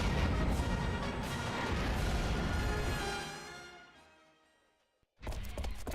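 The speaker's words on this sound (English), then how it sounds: "Wait, was that a rocket launcher?" A rocket launcher firing in Star Fox Assault, a loud, roaring blast that holds strongly and then fades away into near silence, followed by a sudden new burst of noise.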